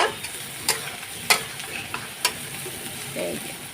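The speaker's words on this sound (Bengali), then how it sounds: "এটা মাছটা এদিকে ভাজা হচ্ছে" Rohu fish fries in a pan with a steady close sizzle, broken by several sharp scraping clicks of a spatula stirring nearby.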